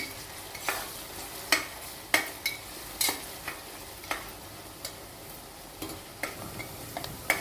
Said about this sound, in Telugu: పచ్చిమిరపకాయ ఉల్లిపాయ కొంచెం పచ్చివాసన పోయేలాగా వేసుకోవాలి.